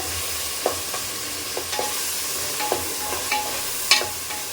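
Mustard seeds and fenugreek frying in sesame oil for a karamani bean kuzhambu, a steady sizzle broken by sharp crackles and pops from the seeds scattered throughout, close and alone.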